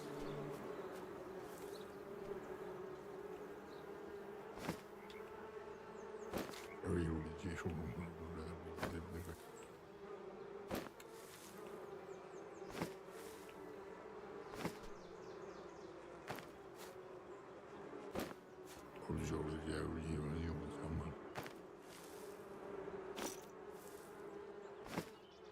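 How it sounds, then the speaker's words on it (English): Bees buzz steadily around a video game farm, a soft continuous drone with faint repeating clicks and a couple of brief low hums passing through. "I'm sure I can still hear bees"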